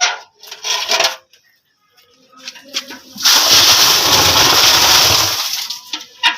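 Dirty water is poured back into an old village well in Punjab. Several short bursts of splashing are followed by a longer, loud, close rush and splatter lasting a couple of seconds, then dying away.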